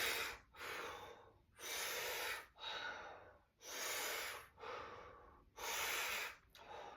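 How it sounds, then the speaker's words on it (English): Six strong mouth breaths during a squatting breathing exercise, each a loud, close whooshing inhale or exhale in an even rhythm separated by short pauses. "let's take 6 mouth breaths here"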